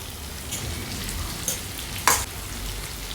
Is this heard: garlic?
yes